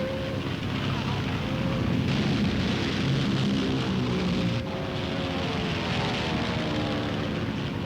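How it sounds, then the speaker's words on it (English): A British airplane passes over a ship off the Egyptian coast, its engine a steady, loud, continuous drone that fills the whole stretch without a break. "The British plane had found them off the Egyptian coast."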